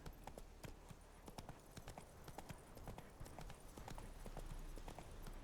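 Horse hooves clip-clopping in The Witcher 3, a steady run of sharp, close hoofbeats over a continuous ambient bed, with no voices.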